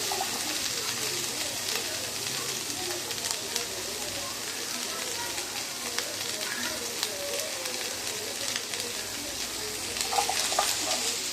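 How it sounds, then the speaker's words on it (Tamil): Cut broccoli sautés in hot oil in a pan, giving a steady, even sizzle and crackle that runs throughout, close up, with a few faint clicks of stirring. "அந்த அந்த எண்ணெயிலே வதக்கினா போதும்."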